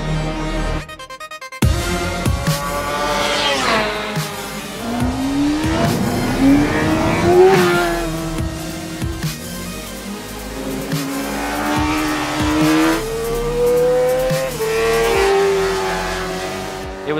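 A Yamaha R6 600cc sportbike racing around a track, its high-revving engine climbing and dropping through gear changes, loud and close throughout with no talking.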